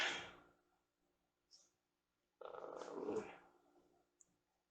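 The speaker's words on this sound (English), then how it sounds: "That's my dog walking around." A bored pet dog moving about indoors makes a soft growling grumble that fades out, then after a pause a louder, longer burst of grumbling and shuffling, with a faint click near the end.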